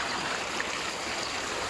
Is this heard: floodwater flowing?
yes